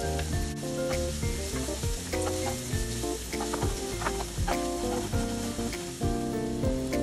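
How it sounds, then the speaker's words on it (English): Chopped onions saute in a few tablespoons of hot cooking oil in a pan, giving a steady, close crackling sizzle with a stirring clatter against the pan throughout. "add the onions and saute until translucent"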